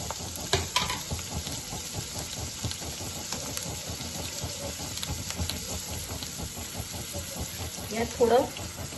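Kofta mixture with garlic and ginger sautéing in a little oil in a pan, giving a quiet, steady sizzle with faint stirring and a brief voice near the end.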